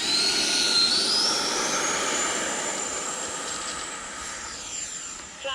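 A model jet aircraft's turbine engine roars loudly during takeoff with a stuck afterburner, its whine climbing steadily in pitch and then slowly fading as the plane moves away.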